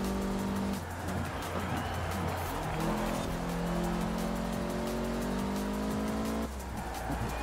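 Race car engine in Forza Horizon 4 on a retro rally route, revving and shifting steadily with rising harmonic whine, a brief gear change near the start and another late, tires faintly scrabbling underneath.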